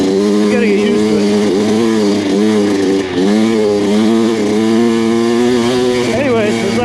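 A Kawasaki KX100 dirt bike engine ridden through hills, loud and close, its buzzing two-stroke tone rising and falling steadily with the throttle, with talk over it.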